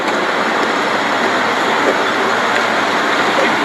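A train rolls past at close range in El Paso, Texas, giving a steady, loud roar of rumbling wheels and rail noise that holds without break, with no talking.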